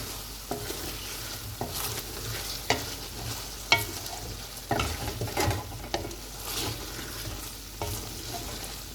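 Chicken biryani ingredients sizzle steadily in a pan while a utensil scrapes and stirs in irregular clacks, close up with no voices.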